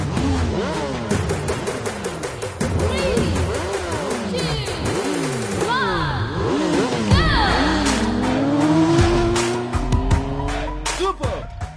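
Motorbike engines rev and scream at the start of a movie race scene, with repeated rising and falling engine whines, tire squeals and skids layered over loud music and sound effects.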